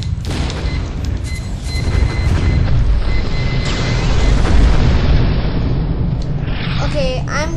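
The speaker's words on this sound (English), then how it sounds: "Okay, I'm just dead because of a bomb." A bomb blast in the online tank battle game Tanki Online: a loud, sustained booming rumble that fills the clip, with dense game noise around it and a voice talking over it.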